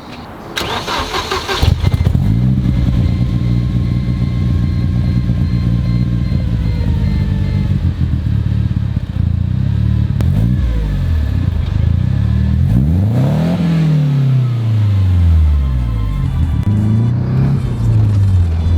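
A one-rotor Mazda rotary engine in a small speedster cranks and catches, then idles roughly and revs up in loud, rising and falling sweeps that grow stronger near the end, with no talking.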